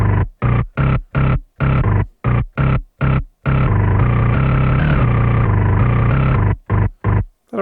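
A bass synth run through a roar distortion effect, heavily distorted and fuzzy, plays chopped rhythmic stabs, then holds a long gritty sustained note before more short pulses; loud, with no talking.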